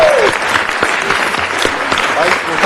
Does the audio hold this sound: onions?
no